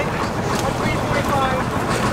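A small boat ride across Halong Bay in Vietnam, with steady engine and wind rumble over water, loud and close without pause; a voice seems to be talking beneath it.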